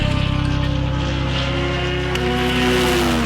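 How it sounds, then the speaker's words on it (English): A race car runs flat-out in a wheel-to-wheel circuit race in Thailand, its loud engine drone holding steady with a rising harmonic whine. A second engine note joins toward the end, with no talk over it. "Wheel-to-wheel racing, hardcore, flat-out racing for a number of laps."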